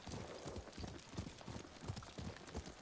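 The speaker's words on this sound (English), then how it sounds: "This is my horse. What a good horse." Horse hooves clip-clopping in Ghost of Tsushima, a steady, quick rhythmic trot heard faintly and alone.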